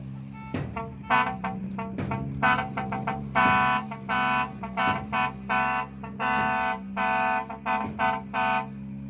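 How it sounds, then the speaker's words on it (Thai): A loud six-wheel Fuso truck horn honks repeatedly in short and longer blasts over a steady engine rumble, an irregular series of toots close by. "ใครไปกดแตรเล่นก็เนี่ย"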